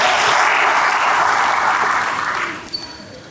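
A church congregation claps together in a steady, dense burst of applause that holds strong, then thins and fades away toward the end.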